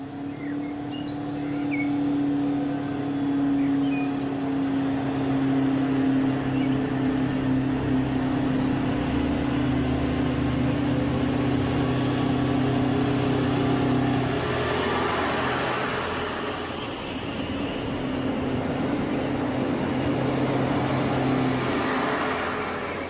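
A two-car DB class 628.2 diesel railcar, the regional train to Lübeck, stands at Timmendorfer Strand station, its engine droning in a steady, loud hum that swells slightly midway, with no voices.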